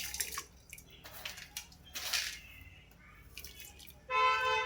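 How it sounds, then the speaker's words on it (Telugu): Water is poured into chicken biryani gravy in a cooking pot, heard as faint, intermittent splashing and dripping bursts that end in a louder, fuller pour. "ఇప్పుడు ఈ గ్రేవీలోకి రైస్లో కావాల్సినంత వాటర్ని యాడ్ చేసుకుందాం."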